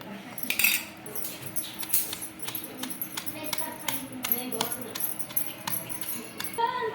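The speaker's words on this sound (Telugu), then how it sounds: "ఇంకా కొద్ది కొద్దిగా వేసుకొని దంచుకోవాలండి" Repeated pounding of mint chutney in a stone mortar with a pestle, a steady run of sharp close knocks and scrapes with no talk.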